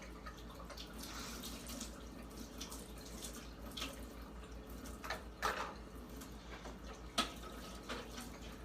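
Dishes are washed at a kitchen sink under running tap water, making a steady low rush of water with a few soft clinks and knocks of crockery near the end. The sound is close and fairly quiet, with no voices.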